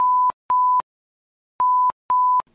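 A home door alarm set to guard against a person with Alzheimer's wandering out gives four loud, steady electronic beeps, each about a third of a second, in two pairs, alone with no talk.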